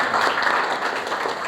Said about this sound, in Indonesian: Tepuk tangan Mas Anang